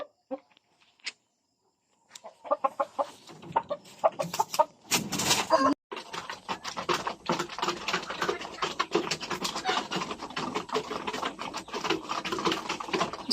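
Several Black Australorp chickens clucking nearby in a busy, overlapping chatter, with pecking and scratching sounds, after a quiet start.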